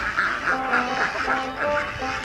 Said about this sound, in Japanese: カモたちが、アヒルたちが騒ぎ出し始めましたよ。